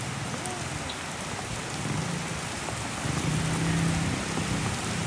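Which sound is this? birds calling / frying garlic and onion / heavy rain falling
heavy rain falling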